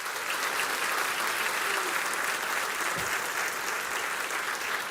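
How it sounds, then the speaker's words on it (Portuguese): A church congregation applauds during a worship service, dense continuous clapping filling the room at steady loudness for several seconds. "dá um aplauso ao Senhor, pelo que Ele fez na tua vida."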